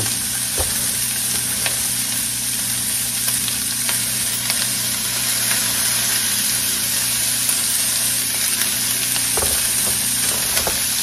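Cabbage cooking down in a pot for braised beef shanks, a constant dense sizzle and hiss with faint scattered crackles, steady and close, with no talking.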